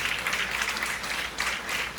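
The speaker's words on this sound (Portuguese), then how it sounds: "dê um forte aplauso ao Senhor" A church congregation applauds together, a dense steady wash of many hands clapping through the short stretch with no voices standing out.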